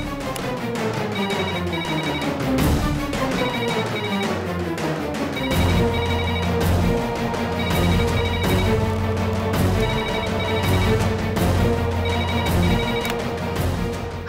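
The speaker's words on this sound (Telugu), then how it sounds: "తొందరగా ఫోన్ ఎత్తవే." A telephone rings in a domestic drama scene, its repeated ringtone pattern sounding at regular intervals over continuous background music, with no voices.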